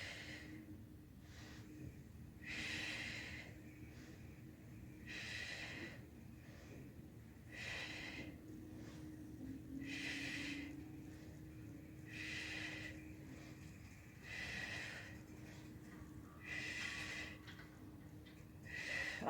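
Breathing during a yoga session: soft, breathy exhales repeat about every two to three seconds, faint against a quiet room.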